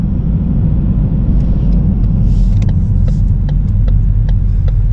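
Vehicle rolling slowly into a busy Love's truck stop, a loud continuous low rumble of road and engine noise with scattered clicks and creaks, no voices.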